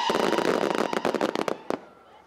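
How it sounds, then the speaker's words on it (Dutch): Fireworks going off at a New Year's Eve celebration in Zeeland, a dense run of sharp bangs and crackling bursts, loud and close, then thinning into a few last pops before fading. "Sowieso, vuurwerk afsteken is gewoon oud en nieuw"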